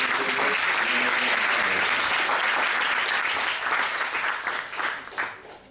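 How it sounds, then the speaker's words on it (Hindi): An audience at a commemorative gathering breaks into dense, sustained applause that holds steady for several seconds, then thins into scattered claps and fades toward the end. "एक बार आप सब आपके तालियों से आशीष दीजिए।"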